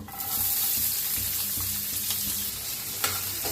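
Mustard seeds, cumin, asafoetida and onion sizzle steadily in hot oil in a pan, with intermittent stirring scrapes over the continuous frying hiss, heard up close without talk.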